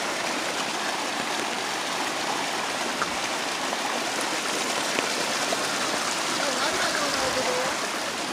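A small creek flows steadily nearby, a continuous broadband rush of running water with faint trickles and splashes throughout.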